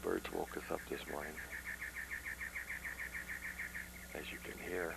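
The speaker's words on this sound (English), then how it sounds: "Well, the birds woke us up this morning." Birds chirp on a rooftop on a morning during a 1991 vacation, a steady run of quick, evenly spaced close tweets, with a voice speaking briefly before and after.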